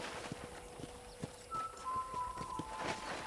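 A horse walks at a steady pace in the Red Dead Redemption video game, its hooves clip-clopping in an even rhythm close by, with a low background hum and faint tones.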